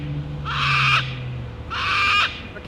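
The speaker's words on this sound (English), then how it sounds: "Angry parrot." An angry parrot squawks at a drone in two loud, harsh bursts of about half a second each, separated by a pause, with a steady low drone hum running underneath.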